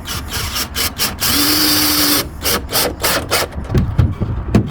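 A power drill whirs steadily for about a second, driving a screw into a dresser drawer slide rail, with scraping and handling noises before and after.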